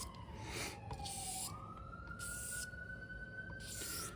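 A siren wails in the distance, its pitch sliding slowly up and holding, faint beneath steady background noise, with no talking.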